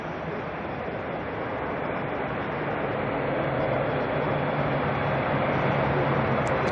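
A China Eastern airliner, flight MU745 bound for Buenos Aires, roaring steadily at night at Auckland Airport, a dense broad jet rumble that holds loud and constant throughout.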